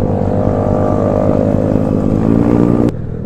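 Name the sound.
Honda BeAT 130cc bore-up motorcycle engine revving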